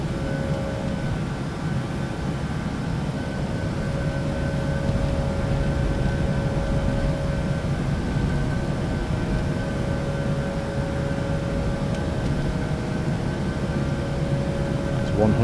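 An Airbus A320 takeoff roll in the Prepar3D flight simulator, a steady, even engine roar with a constant hum and tones throughout, no rise or break.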